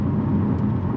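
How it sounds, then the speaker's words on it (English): A Chevrolet C8 Corvette with its mid-mounted LT2 pushrod V8 rumbles in a short, steady burst, deep and loud, with a constant low engine drone throughout. "that pushrod V8 behind you, but in my opinion, I think it's really cool. I like that sound coming out of a car like this."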